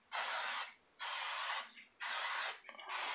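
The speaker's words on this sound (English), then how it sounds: "I'm just going to use some of this cooking spray I got" Meijer brand cooking spray hisses onto the plates of an Oster vertical waffle maker in four separate bursts, each roughly half a second long with short pauses between, close and loud.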